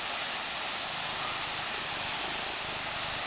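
Waterfall heard from right behind the falls, a loud, close, constant broadband roar of crashing water with no pauses.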